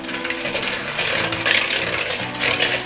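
An electric whisk whirs through cake batter in a home kitchen, a continuous close buzzing motor with rattling, clattering beaters against the bowl, steady and fairly loud throughout.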